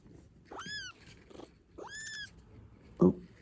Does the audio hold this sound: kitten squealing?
yes